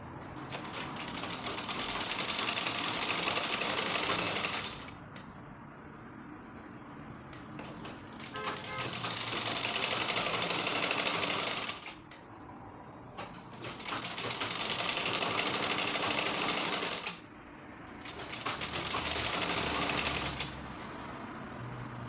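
A sewing machine stitches fabric for a shirred smocked top in three long, loud, even bursts of rapid needle chatter, separated by short quiet pauses while the cloth is straightened.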